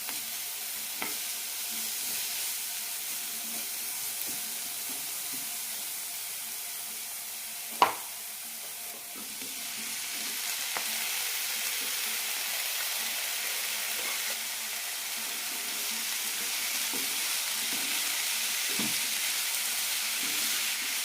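Yam and onion sautéing in a pan, a steady close sizzling hiss throughout with occasional soft scrapes and one sharp utensil knock partway through.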